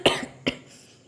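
Two sharp, close coughs from one person, a strong first burst followed by a second about half a second later, with quiet room tone between and after.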